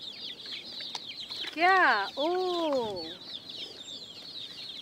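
Hens kept on a rooftop alongside pigeons give a couple of drawn-out, wavering clucks close by, over a chorus of small birds chirping in the background, with a brief spoken word.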